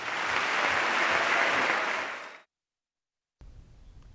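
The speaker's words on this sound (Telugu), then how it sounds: "సుమారు 45 నిమిషాల పాటు సాగిన మోదీ ప్రసంగంలో కాంగ్రెస్ సభ్యులు 40 సార్లకు పైగా చప్పట్లు కొట్టడం విశేషం." Sustained loud applause from members of the US Congress during Prime Minister Modi's address, a dense clapping roar that fades out, then silence before quiet room sound returns.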